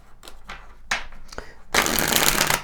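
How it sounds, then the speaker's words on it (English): Tarot cards are handled with a few soft riffles and flicks, then a loud, dense shuffle close up for the final second, with no talk. "Let's clarify with some more tarot cards here."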